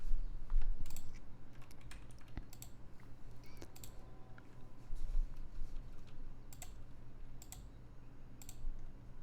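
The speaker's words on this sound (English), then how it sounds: "mechanical keyboard." Typing on a loud mechanical computer keyboard produces a steady, close clatter of sharp key clicks with irregular bursts, heard alone over a low background hum.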